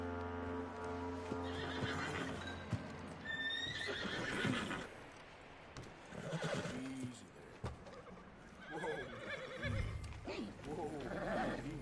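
In the Red Dead Redemption video game, a horse whinnies loudly while hooves clip-clop, mixed with game voices speaking around it.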